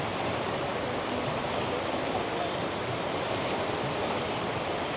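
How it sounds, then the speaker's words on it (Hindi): Fast floodwater rushes in a steady, dense roar during heavy monsoon rain in Rishikesh near the Ganges at Janki Setu, loud and unbroken with no pauses. "कितना तेज पानी आ रहा है।"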